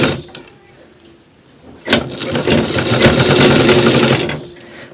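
A sewing machine stitches a shirt collar, starting up after a quieter pause and then running in a steady, loud, close whir for a couple of seconds before slowing.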